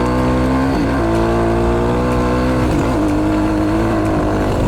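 A motorcycle being ridden on the road, its engine droning steadily and loudly throughout with a couple of brief shifts in pitch as the revs change, no voices over it.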